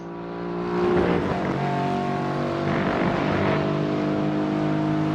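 Race cars in Gran Turismo 4 roar past as a held engine whine that swells within the first second and then stays loud and steady, one engine note sliding over another, with no talk.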